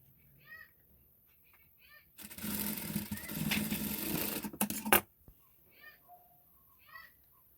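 A sewing machine stitches along the piping of a saree blouse, running in one steady, rattling burst of about three seconds. Someone talks quietly before and after the stitching.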